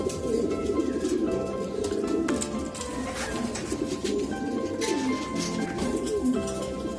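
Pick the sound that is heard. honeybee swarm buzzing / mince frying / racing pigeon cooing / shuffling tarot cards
racing pigeon cooing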